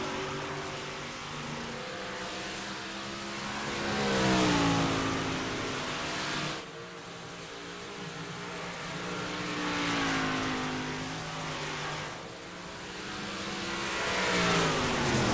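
358 sprint race cars lap the Eldora dirt track, engines revving and rising in pitch as a pack sweeps past, then falling away before the next cars swell in, loud and continuous.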